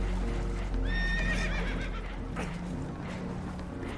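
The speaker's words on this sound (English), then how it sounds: "Horses are spooked" Spooked horses in Red Dead Redemption 2 let out a loud, shrill whinny with wavering harmonics, over a steady low rumble and some hoof clatter, with no talking.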